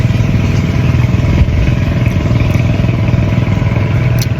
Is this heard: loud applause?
no